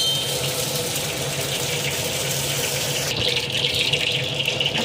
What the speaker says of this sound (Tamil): இப்போ நல்லா எண்ணெய் காஞ்சிடுச்சு இப்போ நம்ம கடுகு போட்டுடலாம்